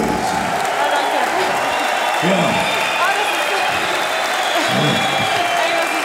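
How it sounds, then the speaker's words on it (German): Roaring applause and cheering from an audience at a championship celebration evening, a dense continuous wash of clapping with someone speaking over it. "ein tosender Applaus für euch heute Abend"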